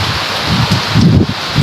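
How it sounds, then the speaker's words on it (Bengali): A heavy rainstorm rushes in a constant broadband wash, with low gusty buffeting and rumbling bursts pressing close to the microphone, no voices. "প্রচুর বৃষ্টি হচ্ছে, সঙ্গে দমকা হাওয়া বচ্ছে।"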